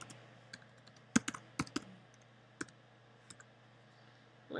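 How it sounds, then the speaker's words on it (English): Typing on a computer keyboard: a sparse run of faint, irregular key clicks with a few sharper taps, close by and otherwise quiet. "I'll type out my question"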